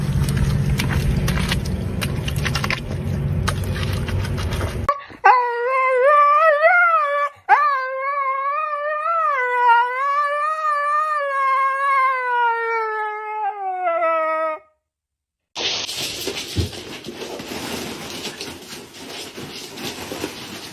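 A dog howls in a long, wavering, sustained tone that rises and falls over about ten seconds, framed by louder noisy stretches before and after.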